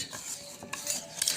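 A utensil stirs eggless waffle batter in a bowl, giving quiet, close scraping and a few light clinks against the side in a short burst, with no one speaking.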